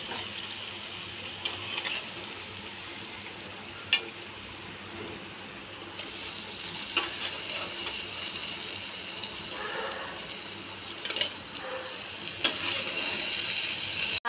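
Ravva burelu, semolina sweet dumplings, frying in hot oil, giving a steady low sizzle with occasional soft stirring clinks and brief pops, moderately close and continuous throughout.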